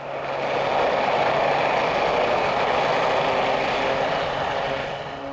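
Turbine-powered Basler turbo DC-3 conversion in steady flight toward the South Pole, a loud continuous engine and propeller roar with broadband wind rush, constant throughout without any talk.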